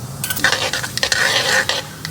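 Mustard and white sesame seeds crackle in hot oil over a low flame. The popping is dense and irregular, with loud close bursts and a light clink of a spoon or pan. No one speaks.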